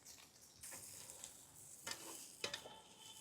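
Chopped garlic fries with cumin, mustard seeds, curry leaves and Kashmiri chilli for a dhaba-style methi masala. A soft, fairly faint sizzle runs throughout, broken by a few louder scraping stirs near the end. No one speaks.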